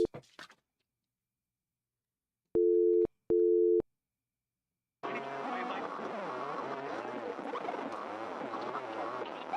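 A phone signal error tone sounds in the Simulacra video game as two steady electronic beeps in a row, followed by a dense, noisy wash of glitchy static.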